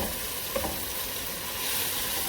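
Finely chopped carrots with aromatics frying in a pan for chicken rice, a dense loud sizzle with scraping stirs of the spoon through the vegetables, close and continuous, no voice.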